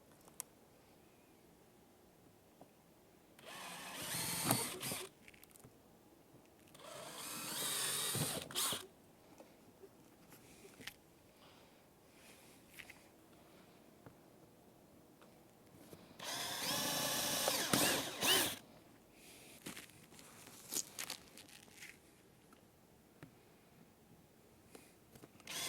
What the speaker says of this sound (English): So we're going to drill those guys out real quick.